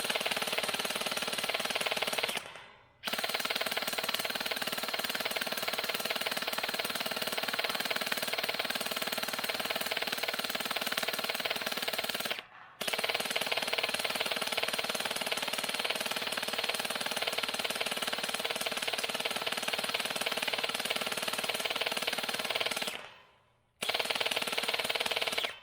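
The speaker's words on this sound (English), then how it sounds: "There's like 2 little gel balls in there swirling around as I'm pulling the trigger" SKD CS001 handheld gel blaster firing gel balls in long sustained full-auto bursts, a dense rapid buzzing rattle broken by three short gaps where the trigger is released, close and loud.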